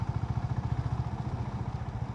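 A Honda CB350RS motorcycle rides through a city, its engine giving a steady, rapid low thrum with regular pulsing beats, close and continuous, with no talking.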